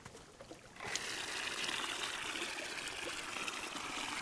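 Water poured into a cup or vessel in the cozy tea game Wanderstop, beginning after a short pause with a steady close trickling stream that continues evenly to the end.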